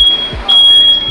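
A house smoke alarm sounds as a shrill, steady high-pitched tone, briefly interrupted then resuming, loud and near, with faint low background noise.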